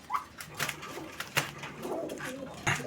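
Pigeons of fancy breeds at a bird market coo in soft, repeated throaty calls close by, several overlapping birds with some faint background noise and no clear talk.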